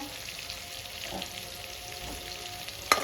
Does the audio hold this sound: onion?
yes